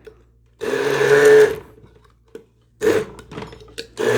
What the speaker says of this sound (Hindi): और क्योंकि ये मोटा मोटा ग्राइंड होना चाहिए, बहुत ज़्यादा ग्राइंड भी अच्छा नहीं है